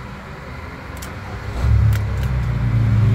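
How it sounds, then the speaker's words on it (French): An Abarth 595 drives on a road in Brittany, its engine hum steady and near, then growing louder and deeper about halfway through as it pulls away. "on prend la route à bord de l'Abarth"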